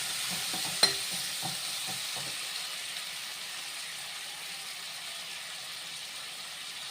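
Two large tomatoes frying with softened onions give a soft, steady sizzle in the pan, with a sharp tap from a utensil early and a few quiet stirring scrapes.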